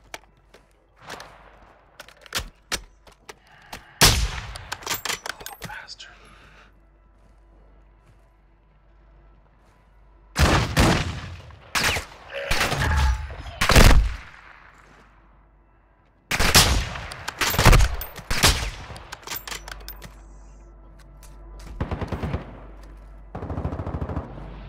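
Video game gunfire from Rainbow Six Vegas: loud bursts of automatic fire and single shots in several clusters, with quiet gaps between them.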